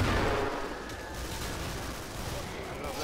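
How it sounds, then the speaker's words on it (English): Grenade explosions and gunfire in a video game come as a continuous loud rumbling wash of blasts and shots, heaviest at the start, with talk partly over it. "I'll throw all my grenades over there."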